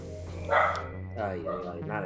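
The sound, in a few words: dog barking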